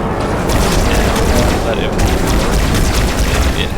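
Dense, continuous battlefield din from Halo 2, with overlapping booms and rapid gunfire bursts held at a loud, steady level throughout.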